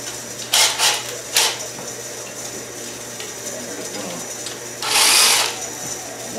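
Nuts being wound off the oil pan of a Porsche 944 with a V8 swap, heard as short ratchet bursts, a couple at the start and a longer one near the end, over a steady background hum.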